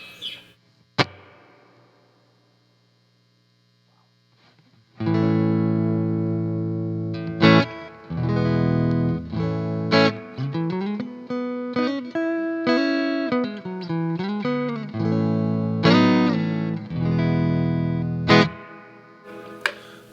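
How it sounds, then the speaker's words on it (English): An electric guitar, a Mellowcaster, played through a reverb pedal: a sharp single pluck rings out and fades, then after a pause a run of distorted chords and bending single notes with washy, lingering tails. "Now for some reverb fun."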